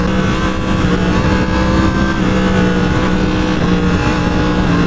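A Yamaha MT-10 SP motorcycle in power mode 2 runs loud and close on the road, its engine drone holding steady with slight surges as the throttle is worked, heavy wind rush underneath.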